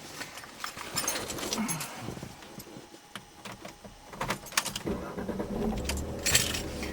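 Keys jangle and rattle close by while handling a manual Jaguar X-Type 2.1, with knocks and clunks from the car before a low engine rumble rises near the end.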